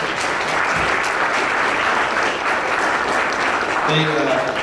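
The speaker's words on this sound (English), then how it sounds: "We give them a round of applause." Steady, dense applause from an audience at a Fort Wayne Soup community gathering, a continuous wash of many hands clapping, with a voice briefly heard near the end.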